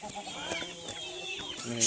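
Chickens cluck and a rooster-like call rises amid farmyard noise, with a voice talking over them throughout.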